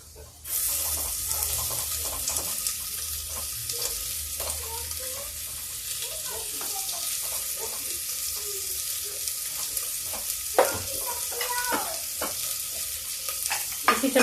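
Chopped onion frying in a hot pan for an eggplant and potato curry, a steady close sizzle with occasional stirring scrapes and clinks of a utensil.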